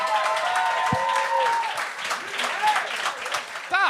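A comedy show crowd applauds a comedian coming on stage, a steady wash of clapping that runs the whole time, while an announcer's voice carries over it.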